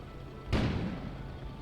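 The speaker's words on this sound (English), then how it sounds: "An explosion suddenly occurred outside." A sudden explosion bursts outside in the video game Kona, a single loud broadband boom that hits abruptly and then decays into a long rumbling tail.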